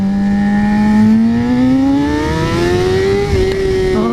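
Sport motorcycle, a Suzuki GSX-R600 or Yamaha YZF-R15, revving in first gear on a road, a loud close engine whine climbing steadily in pitch before briefly dipping and rising again.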